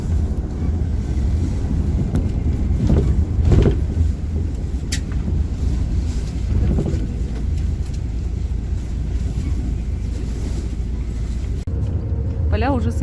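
Steady low road rumble and wind buffeting heard from inside a moving bus, continuous and fairly loud, with a voice talking over it.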